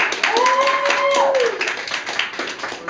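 Audience clapping at a live storytelling show, a brisk burst of hand claps close by with voices calling out over it, tapering off after a couple of seconds.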